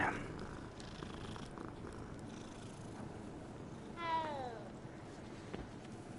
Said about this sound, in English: Gotta pet a putty cat.